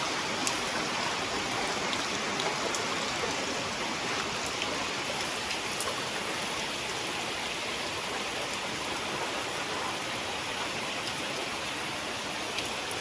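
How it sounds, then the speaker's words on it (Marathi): Rainwater runs after a heavy village downpour, a steady, unbroken rushing wash like a swollen stream flowing nearby, even and loud throughout with no voices. "जरा पावसाचं पाणी बघा किती आलं ते"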